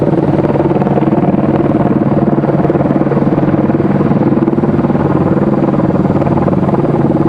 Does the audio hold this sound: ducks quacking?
no